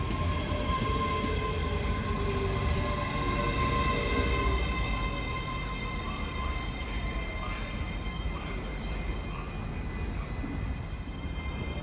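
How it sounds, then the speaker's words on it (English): ScotRail train pulling out of Stirling station, a steady rumbling roll of wheels and engine with faint high squeals, moderately loud and fairly close, no voices. "Departing out now is the 1438 ScotRail service from Dunblane to Edinburgh Waverley."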